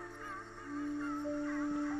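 Geese in the video game Ori and the Will of the Wisps give a few short, honking calls over soft game music, moderately close and without talk.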